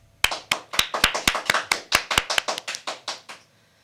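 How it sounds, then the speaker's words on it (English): A small group at a teacher-of-the-year recognition claps together, sharp distinct hand claps in a quick steady rhythm, close and clear, about fifteen claps fading out after three seconds. "let's give Miss Utley a round of applause"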